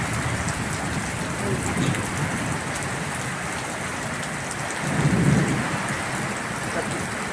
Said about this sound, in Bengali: এখন বাহিরে অনেক বৃষ্টি ঝড় উঠতেছে, ঘরের মধ্যে পানি